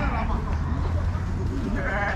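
Sheep and goats bleat at a livestock market in Uzynagash, with wavering, repeated calls at the start and again near the end. People talk and bargain close by.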